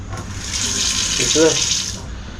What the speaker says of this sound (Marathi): पाणी पण तुम्ही विचाराल ना तर चोवीस तास इकडे पाणी आहे बघा